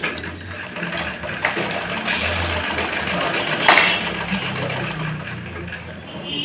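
A sewing machine stitches ladies' pant fabric, running as a steady mechanical whir with a louder patch midway, close and continuous, with no voices over it.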